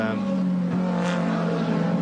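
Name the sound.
BMW M3 race car engine revving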